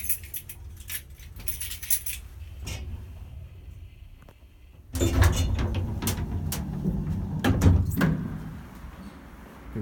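Keys jangle near an old 1960s Radnik lift in a Zagreb skyscraper, bright metallic clinking in bursts, then a louder clattering stretch with rattles and thuds toward the end.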